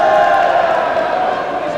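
Ice hockey arena crowd at a 2000 match, a sustained loud wall of shouting and jeering voices that swells briefly then holds steady, no single voice standing out.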